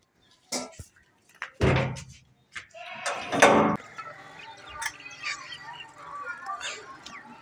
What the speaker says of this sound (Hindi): चल दरवाजा खोलने